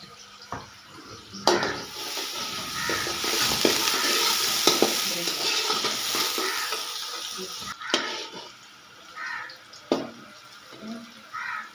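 Onions sizzling and frying in a pan until brown, a steady hiss broken by scraping stirs and a few clanks of a utensil.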